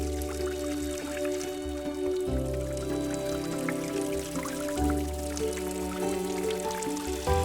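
Floating 2.2-watt solar fountain pump splashing water in a garden pool, heard as a continuous gentle trickling and splashing, with a steady tonal background hum running underneath.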